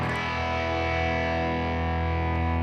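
Electric guitar strumming simple sustained chords through a bathtub-style amp model in an Axe FX, bridge pickup, with a thick, distorted, steady ringing tone held throughout and no talking.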